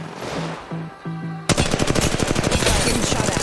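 Rapid automatic gunfire from an Apex Legends Mobile firefight, a loud sustained burst of closely spaced shots cutting in halfway after a brief stretch of quieter game sounds and tones.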